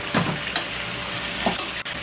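Potatoes frying with turmeric and chili powder make a steady close sizzle, with a few light stirring scrapes and taps of a utensil in the pan.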